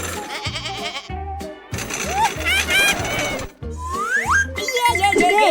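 Cartoon goat bleating in a short children's animation about a little monkey visiting a goat friend, several wavering bleats rising and falling over a busy backing of music and effects.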